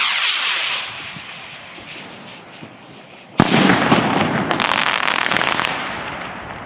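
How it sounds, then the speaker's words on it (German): Purple Wing firework rocket from the Nico Rocket Rally set launching outdoors: a steady hissing rush, then a sudden loud bang-like whoosh and continued fierce crackling hiss until the end. "Purple Wing aus dem Rocket Rally Set"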